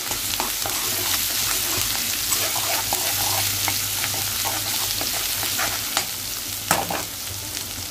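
Turmeric and ginger-garlic paste are stirred into a hot pan of oil, with a steady close sizzle of frying and intermittent scraping of the spoon against the pan, no voices.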